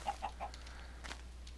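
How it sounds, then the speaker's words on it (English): Several short clucks from chickens in the Minecraft video game, three quick evenly spaced calls early on, then fainter scattered ones over a low steady background hum. "Lots of chickens."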